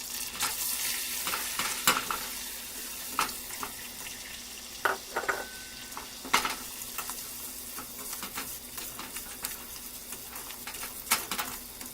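Flour is stirred into melted butter in a pan over a low flame, a soft, steady sizzle broken by repeated scraping strokes of the spoon throughout.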